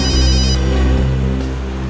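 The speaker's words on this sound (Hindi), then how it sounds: "एसीपी साहब का फोन आ रहा है" Telephone ringing for an incoming call in a Hindi crime drama, a loud steady electronic ring tone close by with no talking.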